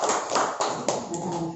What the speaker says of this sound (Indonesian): Tepuk tangan dulu untuk Bapak Ibu.